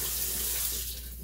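Fever-Tree Light tonic water poured into a watermelon cocktail, a short steady splashing pour that trickles off toward the end, close and alone.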